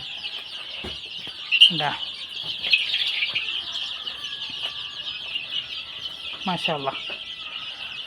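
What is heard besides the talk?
young chickens clucking and flapping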